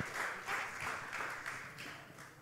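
Audience at a Christmas school celebration for students and teachers clapping, a dense, steady applause that carries at an even level before gradually tapering off.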